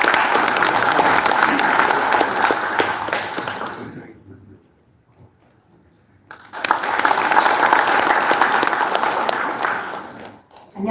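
A crowd at an inauguration ceremony for the chairman of a senior citizens' association gives two loud, sustained bursts of applause, separated by a few seconds of near silence.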